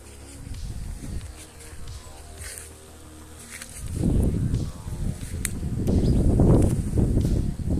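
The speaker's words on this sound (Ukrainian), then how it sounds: "Та полинь бджоли носять пилок." Bees gather pollen from wormwood in early morning sun, their buzzing a continuous swarm drone with individual insects swelling loudly as they pass close, then fading back, outdoors with no talk.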